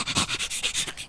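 A small cartoon dog pants in quick, rhythmic breathy puffs, about eight close, even bursts in a second, with no talking over them.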